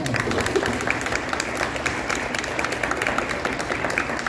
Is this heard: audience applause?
yes